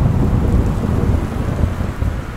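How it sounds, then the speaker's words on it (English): Steady, loud rain with a rumbling thunderstorm fills the scene on a dark stormy night in the video game Gone Home, a dense continuous wash of downpour with low rolling thunder underneath and no voices. "It's a dark and stormy night."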